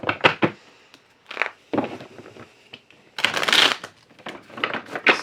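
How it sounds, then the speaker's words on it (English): A deck of tarot cards gets shuffled several times up close, in short bursts of crisp riffling separated by brief pauses, with a longer, louder flurry near the end. "Shuffle the cards a few times."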